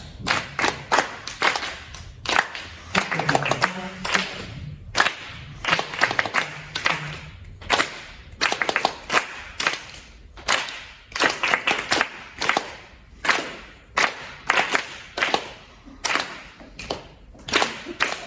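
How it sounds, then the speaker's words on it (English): A class or audience at a rhythm workshop claps a pattern together in bursts alongside played pulses: sharp, loud group claps falling in regular rhythmic phrases with short pauses between, sustained over many bars. "I'll play the pulses so that will help you to clap it"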